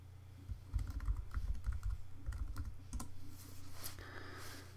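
Rapid keystrokes on a computer keyboard while a password is entered, a close, steady run of light clicks with brief pauses and no voices.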